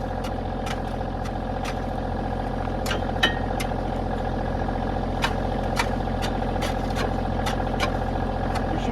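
A tractor engine idles steadily while out snowplowing a camp road, a constant low rumble with a few faint clicks and knocks on top and no talking.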